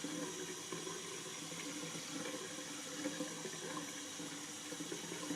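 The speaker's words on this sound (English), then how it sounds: "Then you're going to rinse your hands with water and make sure that you get rid of all of the soap suds." A tap runs steadily while hands are rinsed of soap suds during a hand-washing demonstration, a continuous, even rush of water with no break and no voices.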